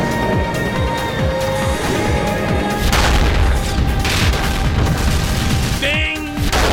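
Spaceship guns blaze in a battle in the game EVE Online, a dense run of loud booming shots and rapid volleys over a constant rumble, with bright chiming tones breaking through near the end.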